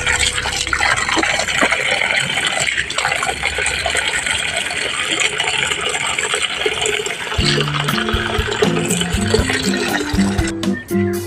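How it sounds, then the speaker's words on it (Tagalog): Tap water runs in a steady, splashing stream while barracuda is rinsed in a kitchen, with clinks and knocks joining toward the end. "Hugasan natin ng tubig yan."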